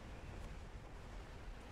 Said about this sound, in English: it's super windy